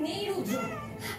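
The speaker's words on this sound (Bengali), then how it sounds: "ও ম্যাও ম্যাও করেই যাচ্ছে" A cat meows nearby in a home while fried fish is being eaten, one short drawn-out meow, fairly quiet.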